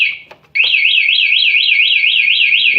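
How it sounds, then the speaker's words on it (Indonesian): Anti-theft remote alarm on a Honda Vario 125 eSP motorcycle, 2018 model, blares a loud, continuous warbling siren that rises and falls steadily after a brief chirp, close by and alone. "Jadi alarm akan bunyi terus."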